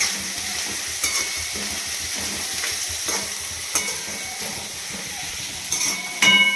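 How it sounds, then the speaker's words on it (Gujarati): Chopped green turmeric roasting in ghee in a pan, a steady close sizzle with occasional sharp scrapes and clinks of a spoon stirring through it. "એને પણ આપણે બે થી ત્રણ મિનિટ સુધી શેકીશું ઘીની અંદર ને હળદર"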